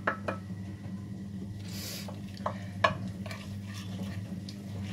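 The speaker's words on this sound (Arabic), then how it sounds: "كنخلطوا الخليط ديالنا جيدا" A spoon stirs and scrapes through an oil marinade of table oil and olive oil for oven chicken, with close intermittent clinks against the bowl over a steady low hum.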